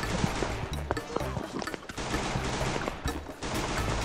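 Gunfire in the game Free Fire, sharp repeated shots in irregular bursts, fairly faint, with a few louder cracks scattered through a busy background.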